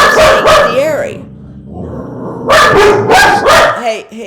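A dog barks loudly at a cat, two sharp barks, a brief pause with a low growl, then a quick burst of three more barks close to the listener.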